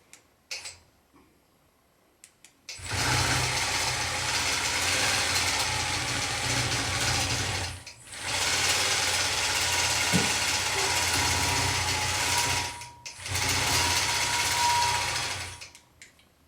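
A longarm quilting machine stitches raw edge applique rose buds in three long, steady bursts of close, loud mechanical whirring separated by brief pauses, with no talking.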